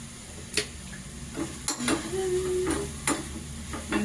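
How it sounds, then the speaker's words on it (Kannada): Finely chopped spring onion fries in hot oil with a steady close sizzle, broken by the clicks and scrapes of stirring in the pan. "ಈಗ ಈರುಳ್ಳಿ ಸೊಪ್ಪನ್ನ ಸಣ್ಣಗೆ ಹೆಚ್ಚಿ ಸ್ವಲ್ಪ ಎಣ್ಣೆ ಹಾಕಿ ಬಿಸಿ ಮಾಡ್ಕೋಬೇಕು"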